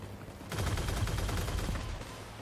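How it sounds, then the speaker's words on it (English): Rockets fire in the vehicle combat game Crossout as a dense, sustained burst of booming launches that keeps going for about two seconds, loud and close, with no talking. "Oh, he's got rockets, that's why."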